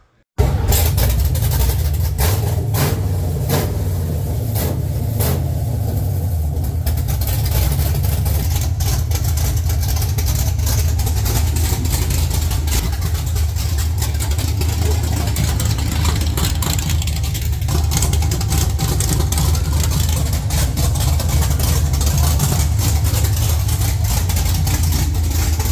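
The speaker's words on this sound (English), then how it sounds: "it is hot in this garage running this car with open headers" A 1969 Camaro with an LS3 engine swap idling with open headers inside a garage, a loud, steady, rumbling low idle held close for the whole stretch with no talk.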